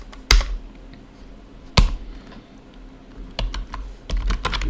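Keystrokes on a computer keyboard as a command is entered, a few sharp isolated taps followed by a quicker cluster of clicks, close and clear with no talking.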